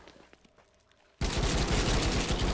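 A +10 assault rifle unloading in the Night of the Dead video game: after a quiet stretch of faint taps, a sudden dense, continuous burst of rapid automatic gunfire runs loud to the end.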